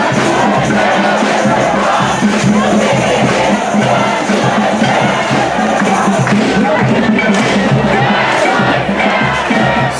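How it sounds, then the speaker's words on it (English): Large, animated crowd of thousands of protesters filling a Seattle street, a loud continuous roar of shouting and cheering voices close around. "it's a very animated crowd"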